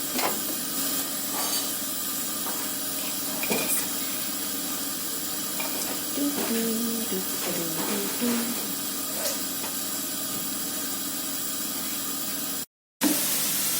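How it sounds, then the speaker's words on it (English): Vegetables fry in oil in a hot frying pan with a steady, close hiss that runs almost the whole time, broken by small clinks and crackles of stirring, a voice speaking over it, and a brief silent gap near the end. "so it's sizzling away now, very nice"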